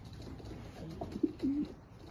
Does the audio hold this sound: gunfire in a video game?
no